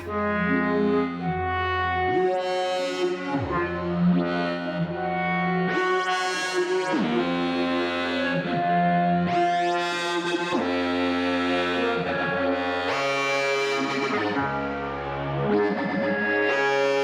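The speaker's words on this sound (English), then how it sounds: "we can hear the reverb coming back in" Sustained synthesizer chords swell and shift, with a distorted, echoing reverb tail blooming in and washing through the tones.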